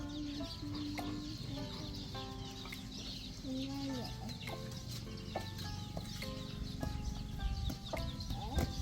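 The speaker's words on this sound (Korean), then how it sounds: "여기 병아리가 있어 병아리 봐봐 닭 병아리" Chicks and chickens cluck and cheep nearby in a steady, busy chorus of short, repeated calls, with a low background murmur throughout.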